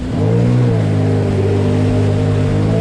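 A Sea-Doo Trixx personal watercraft engine, a 2024 model carrying three riders, holds a loud, steady drone that dips slightly in pitch near the start as it pulls a wheelie on the water.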